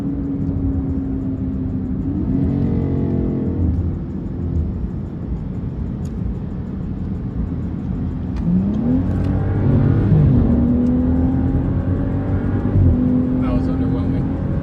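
A turbocharged Honda Civic revs and accelerates on a street at a midnight race, its engine note rising and falling at a distance amid steady crowd noise and chatter.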